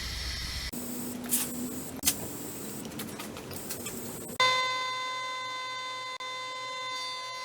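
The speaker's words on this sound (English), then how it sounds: "Now I'm going to take some white spray paint and just go over it." White spray paint hisses from a can in several short bursts over a wooden sign, close and moderately loud, before a steady tonal whine takes over.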